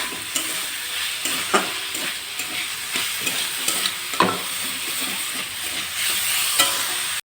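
Chopped onion and green chili fry in oil in a pan, a continuous sizzle with occasional scraping stirs of a spatula, close and steady with no talking.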